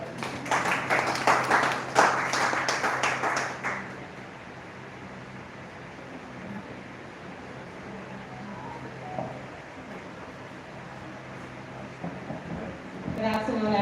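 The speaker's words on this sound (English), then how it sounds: "You can give them a round of applause." A crowd at an outdoor community event in St. Mary, Jamaica applauds a team from the Tax Administration Jamaica, loud dense clapping for about four seconds before fading into background murmur.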